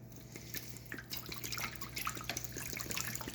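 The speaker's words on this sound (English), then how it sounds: "now the next thing I need to do, I'm going to add some water" Water poured into a bowl while making meatloaf, a faint trickling and dripping close by over a low steady hum, with no talk.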